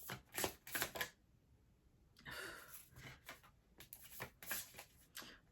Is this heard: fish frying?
no